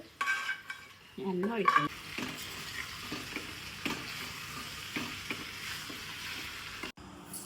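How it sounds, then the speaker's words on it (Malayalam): Fried chicken sizzles and crackles in a pot while a utensil scrapes and stirs, with occasional clinks of metal against the pan, during biryani cooking. "വറുത്ത വച്ച ചിക്കൻ ഇടണേണ്"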